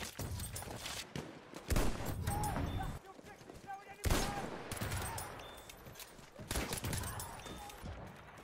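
Bursts of machine gun fire in a chaotic battle, dense rapid volleys that cut in and out in loud waves with brief lulls between them, shouted voices mixed through the din.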